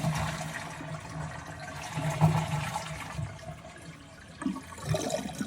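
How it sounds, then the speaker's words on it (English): A toilet with a hard-to-push handle flushes with a steady rush of water that swirls and drains, then gurgles and trickles as the tank empties, fairly close by. "if you want to flush, right? So you drain all the water."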